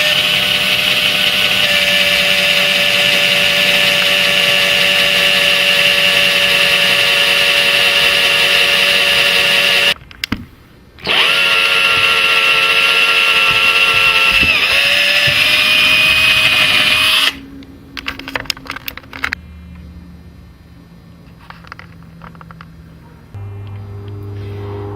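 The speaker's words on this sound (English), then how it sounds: "I'm going to drill the hole through for my drawer pull" An electric drill bores a hole for a drawer pull through a buffet's wood, whining loudly and steadily with a brief stop, then winding down into quieter handling clatter, with no talking.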